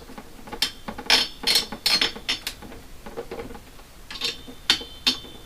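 Screws tightened while mounting a CPU cooler on a Ryzen PC build: a run of short, crisp metallic ratcheting clicks in uneven bursts, close and fairly quiet, with brief pauses between turns.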